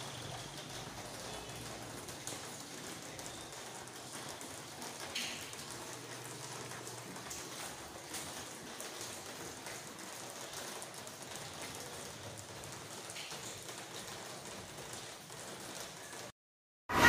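A storm of heavy rain and strong wind in Riacho dos Cavalos gives a continuous, fairly faint rushing hiss for most of the stretch before cutting off abruptly near the end.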